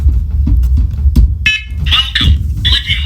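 First Alert carbon monoxide-only alarm sounding its start-up signal: a bright electronic beep tone cuts in and repeats in short bursts over background room noise and talk, close and loud.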